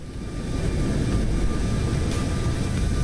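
Airliner engines roar steadily during a climb-out in Microsoft Flight Simulator, a constant broad low rumble with no talk over it.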